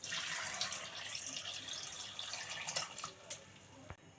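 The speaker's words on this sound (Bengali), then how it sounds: "ঘুগনি মটরটা আমি কুকারে ঢেলে দিয়েছি, আর এরই সাথে আমি আলুটা দিয়ে দিচ্ছি। আর মাপ মতন জল দিয়ে দিচ্ছি।" Water splashes and trickles steadily into a pressure cooker holding ghugni peas and potato, a soft close pour that ends with a small clink and a brief drip.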